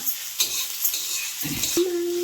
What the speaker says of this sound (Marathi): कांदा चांगला तेलात भाजून घ्यायचा